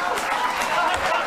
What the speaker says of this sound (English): What are you people clapping about?